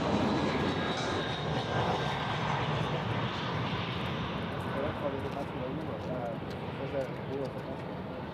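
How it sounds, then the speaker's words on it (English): A Jetstar Airbus A320 airliner arriving from Melbourne comes in to land at Sydney Airport with a steady, broad engine roar. It stays fairly even throughout, with a person faintly talking over it. "Jetstar 320 just popping in now over the fence line"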